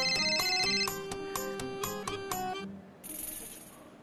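A telephone ringing in an office, a bright repeating electronic ringtone with several quick pulsed rings over about three seconds, loud and alone, then cut off by a brief hiss.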